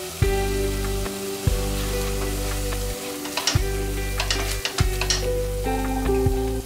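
A spice masala with yogurt frying in oil in a pan, loud close sizzling and bubbling broken by repeated stirring scrapes and utensil clicks against the pan.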